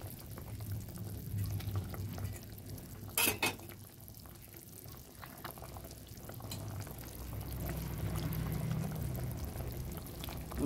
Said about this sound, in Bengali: কলার ঝোলটা ফুটে এসেছে। এবার আমি এক এক করে মাছগুলো দিয়ে দেব।